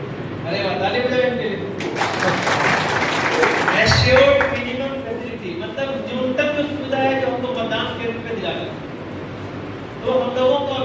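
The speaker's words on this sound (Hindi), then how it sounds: "अरे ताली बजाओ इनके लिए" An audience at an election-duty briefing claps for about two seconds, a burst of close applause breaking into a man's continuous speech, which carries on once the clapping fades.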